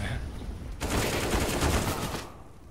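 Sustained automatic gunfire in a Counter-Strike match, a dense, steady rattle of shots that starts abruptly and runs for well over a second before cutting off, with faint talk around it.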